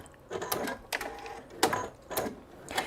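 A sewing machine chain stitching fabric corners for quilt blocks, giving quiet, repeated bursts of stitching with short pauses between them, faint and with no voices.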